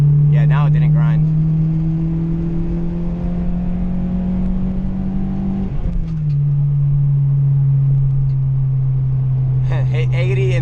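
A 2002 Acura RSX drives hard with a loud, steady engine drone that climbs in pitch, drops briefly at a gear change, then pulls again. Voices talk over it at the start and end.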